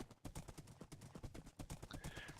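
A Minecraft horse trots along in quick, even clip-clop hoofbeats, faint and steady, with a brief whinny-like tone near the end and no voice over it.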